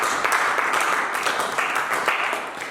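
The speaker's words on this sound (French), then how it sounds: "Acclamez, acclamez." A church congregation claps at a sermon, a steady bright patter of applause that stays loud and continuous, with no voice on top.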